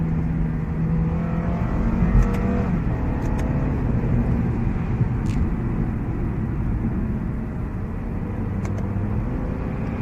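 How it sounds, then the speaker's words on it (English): A Lexus IS 200t F Sport engine hums steadily from inside the cabin as the car is driven and downshifted manually, with small rises in revs against continuous road noise and no talking. "if I were to put it in manual right now and downshift a few times"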